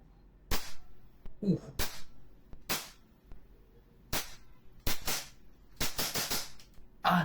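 EMG PIT Viper airsoft gun firing repeatedly in a low back test, sharp close snapping shots spaced irregularly with bursts toward the end, loud against a quiet room.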